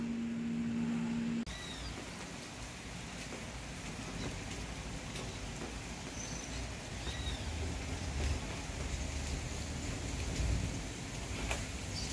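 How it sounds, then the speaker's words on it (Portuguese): A light drizzle begins outdoors, a faint, even hiss of fine rain that continues steadily throughout after a brief low hum at the start, with no one speaking. "Começou a chover aqui, tá vendo? Uma garoazinha fina"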